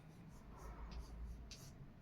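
A pen scratches quietly across paper while a math solution is written out for a Class 10 exam problem. The faint strokes come in short, soft bursts over low room hum, with no talking.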